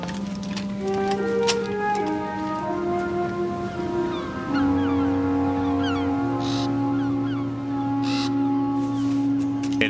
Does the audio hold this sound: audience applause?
no